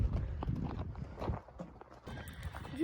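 Small ponies' hooves clip-clop at a riding training session, a quick run of light, irregular hoofbeats close by, with faint background voices and noise.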